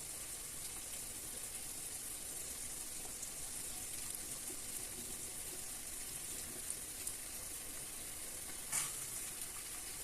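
Boiled macaroni frying in masala gives a steady, close, low-level sizzle that continues without a break, with one brief clink near the end.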